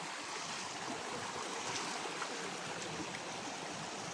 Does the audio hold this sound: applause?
no